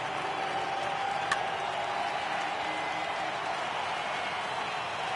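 Broad, steady stadium crowd roar rising during a full 3-2 count in an MLB The Show baseball game, a continuous wash of cheering noise with a faint tick partway through and no voices on top.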